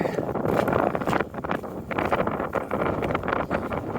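Gusty outdoor wind buffets the microphone on a walk up North Street in Halifax, a steady roar with swells and brief lulls, fairly loud throughout.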